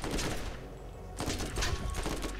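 Bursts of rapid gunfire in the video game Borderlands crackle in two clusters, loud and dense, with a steady background rumble between volleys.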